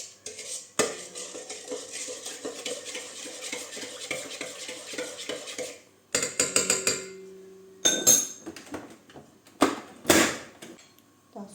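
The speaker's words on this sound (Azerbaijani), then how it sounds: "Qaşıqla bunu şey qarışdıram." A spoon stirs egg dough for bread buns by hand in a bowl. It gives a close, busy run of scraping and clinking strokes against the bowl, broken by short pauses and a few sharper knocks.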